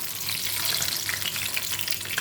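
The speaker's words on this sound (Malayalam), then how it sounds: "കുറച്ച് എണ്ണയ്ക്കകത്ത് നമുക്കിത് പൊരിച്ചെടുക്കാം" Brinjal slices fry in hot oil for village-style brinjal fry, giving a steady, close crackling sizzle with scattered sharp pops throughout and no talking.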